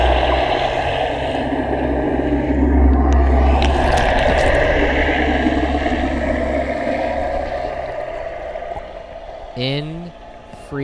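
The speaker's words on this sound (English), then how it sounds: "You can hear that motorboat." A motorboat engine drones steadily at close range in Jamaica, loud and constant with wind and water rush, fading slightly toward the end before a brief voice cuts in.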